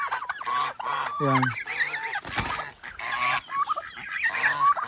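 Several geese honk loudly and repeatedly nearby, their harsh calls overlapping, while a person speaks briefly among them.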